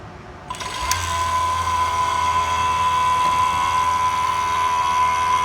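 A vacuum pump runs on an HVAC system, pulling nitrogen out while straining to reach a deep vacuum, starting up with a click and settling into a steady, loud mechanical hum with a high whine.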